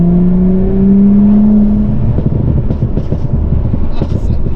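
An Audi S5 engine pulls hard and loud nearby, rising in pitch as it accelerates, then a rougher roaring drone with crackles as the revs climb again.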